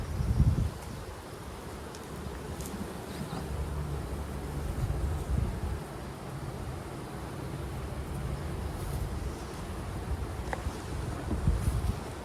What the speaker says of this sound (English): Full of bees right up here.